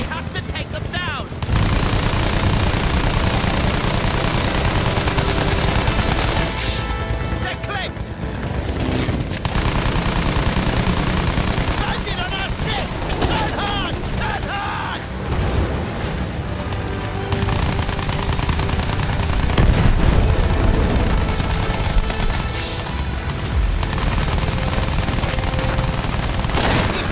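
Battlefield 1 combat in a World War I battle with aircraft, blimps and bombers: dense, continuous gunfire and explosions run throughout, loud and layered, with brief drops in intensity.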